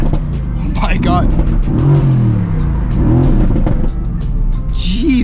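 Mercedes-AMG GT S with the secondary catalytic converters deleted, exhaust rising and falling through several loud revs with crackles, heard close up from inside while a person talks over it.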